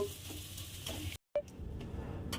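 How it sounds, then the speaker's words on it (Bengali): A spice mix of ground roasted cumin and dried red chilli is stirred through a frying mixture in a pan, with scraping strokes over a soft sizzle and one brief silent break midway. "ভাজা মশলাটা দিয়ে আমি আবারও একটু দেখুন নাড়াচাড়া করে নিয়েছি"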